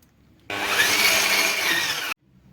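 An electric mixer whipping butter for cookie dough whirs continuously for under two seconds, a steady close motor hum that starts and stops abruptly.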